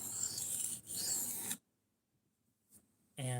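S90V steel knife being sharpened on a low-grit stone, raspy strokes heard close up in two bursts, then a near-silent pause before another short scrape.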